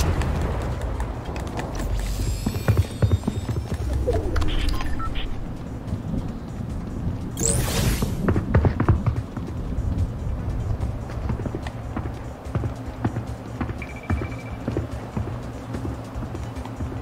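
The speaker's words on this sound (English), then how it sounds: "how am I hearing 2 footsteps?" Footsteps in a video game during a boss fight, with clip-clop-like steps running through a busy, loud game mix of music and effects, continuous over several seconds.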